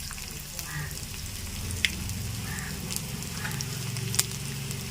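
Garlic, chana dal and urad dal fry in hot oil for a tempering, a steady crackling sizzle with occasional sharp pops from the pan, close and continuous.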